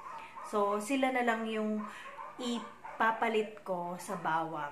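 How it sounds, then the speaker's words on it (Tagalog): Household dogs barking and whimpering in the background behind someone speaking close up, with short yips mixed under her talk. "naririnig nyo naman siguro sa background na ang ingay na naman ng aming mga aso"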